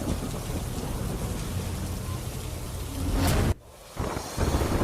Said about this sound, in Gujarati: પોપટપરા વિસ્તારમાં ભારે વરસાદી માહોલ જોવા મળી રહ્યું છે